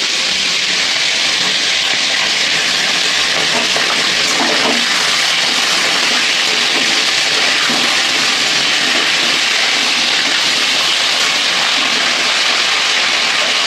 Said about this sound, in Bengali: এখানে আমি মাছ ভাজছি